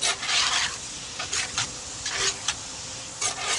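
Onions, celery and green peppers cooking with meat for jambalaya, giving a soft sizzle with several bursts of stirring and scraping in the pan, fairly close and with no talk.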